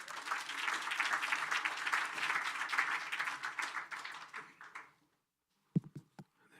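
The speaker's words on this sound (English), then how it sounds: "Round of applause, everyone." An audience at a UN Food Day ministerial panel gives a round of applause, lively clapping that fades out near the end, followed by a few faint taps and handling knocks.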